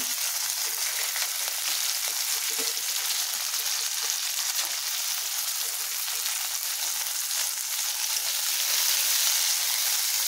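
Mixed vegetables fry in a pan with a continuous bright sizzle and crackle that stays steady and close. Faint stirring ticks sound throughout.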